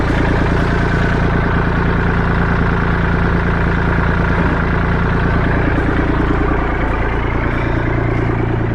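Tractor engine idling in a workshop during a 55 Chevy pickup build, a loud, steady, close mechanical rumble with a fast even chugging pulse that holds for the whole stretch.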